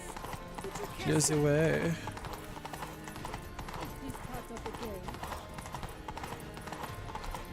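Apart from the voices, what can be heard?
horse galloping in video game The Witcher 3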